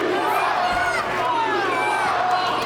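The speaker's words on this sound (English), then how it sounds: "hearing it from this crowd here in Merrick" A wrestling crowd in Merrick roars continuously at a BaseBrawl event, a dense wash of shouting, chanting and chatter that stays loud and unbroken throughout.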